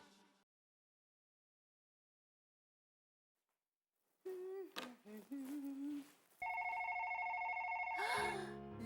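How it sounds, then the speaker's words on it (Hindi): After a long silence, a loud sustained electronic telephone ring sounds over some brief clattering and voice-like sounds. "लगता है कैंडिडेट का फोन होगा।"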